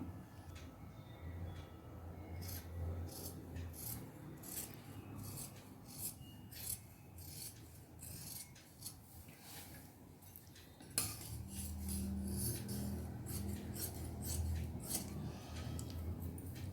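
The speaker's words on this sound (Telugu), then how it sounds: "ఇప్పుడు మనం హ్యాండ్ని కట్ చేసేసుకుందాం" Scissors cut through blouse sleeve fabric for tailoring, making soft repeated snipping and rasping strokes at a close, quiet level, with a faint steady hum beneath.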